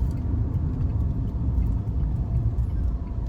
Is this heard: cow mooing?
no